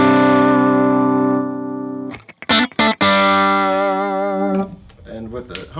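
An electric guitar with a humbucker split to single-coil, played through a JHS Superbolt v2 overdrive pedal, rings out with sustained distorted chords, a few choppy strummed hits, then more held, saturated notes.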